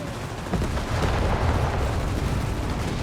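Dense rumbling mortar and artillery explosions in Company of Heroes 3 battle, a continuous loud low roar of overlapping blasts with no clear gaps, steady throughout.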